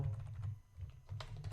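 Quick bursts of clicking keystrokes on a computer keyboard, close and clear, in two short runs separated by a brief pause, alone without speech.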